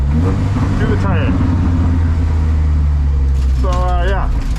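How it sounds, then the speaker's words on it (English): A stripped Volvo 740 drift car's engine, about 120 horsepower at the wheels, roars close and loud and stays steady. Someone talks over it. "it's actually hilarious how good this car rips for only having 120 horsepower to the tire"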